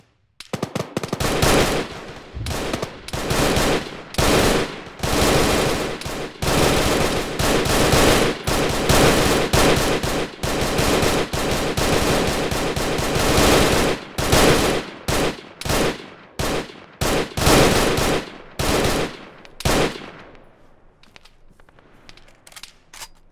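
Gunfire in an Arma military video game during a ShackTac squad operation, loud rapid automatic bursts and volleys repeating almost continuously, then thinning into scattered shots and fading near the end.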